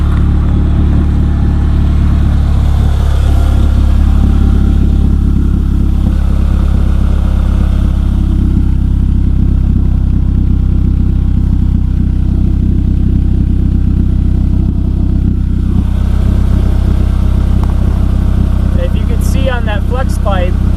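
A Gen1 Mazda3 MZ3 engine runs steadily with a low, rumbling exhaust drone from an exhaust leak at the flex pipe, loud and close, holding a constant idle for the whole stretch.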